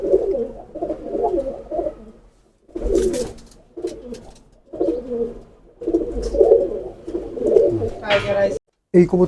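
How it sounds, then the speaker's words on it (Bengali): Silver racing pigeons coo in repeated low, throaty bursts close by, with short pauses between phrases, while someone talks over and between them. "এটা সিলভার কবুতর"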